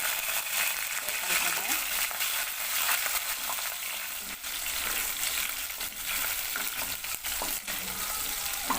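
Onions, green chillies and coriander, with fenugreek and curry leaves, fry in hot oil in a pan for an anchovy dried-fish curry, a loud, dense, unbroken sizzle with occasional stirring scrapes throughout.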